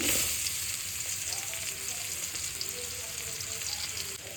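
Chopped onion hits hot oil with whole cinnamon, cardamom, cloves and peppercorns over medium heat, giving a steady, dense sizzle that runs close and fairly loud throughout with a few faint scraping stirs.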